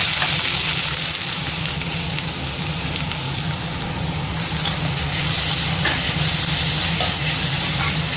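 Chopped onions frying with fennel seeds in hot oil, giving a loud, dense, continuous sizzle and hiss close up, with no voices.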